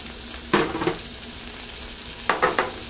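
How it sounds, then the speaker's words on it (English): Celery sautéing in a hot skillet, a steady low sizzle broken by a few quick stirring scrapes near the start and again near the end. "saute my celery to get this kind of tender"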